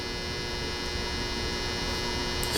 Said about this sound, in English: I know you can hear the lights in the background.